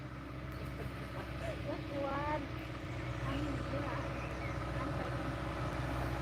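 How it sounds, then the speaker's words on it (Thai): A tractor engine revs in low, steady harmonic drones by a waterside spot, its pitch rising and falling slightly, with people talking over it throughout. "เพิ่นเบิ้งรถไถน่ะ"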